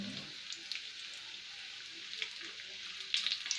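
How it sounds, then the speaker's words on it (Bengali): Hilsa fish fries in soybean and mustard oil, a soft continuous sizzle with scattered faint crackles and pops, fairly quiet throughout. "এখন এই মাছটা আমি রান্না করব, একটু সয়াবিন তেল দিব এবং সরিষার তেল দিব।"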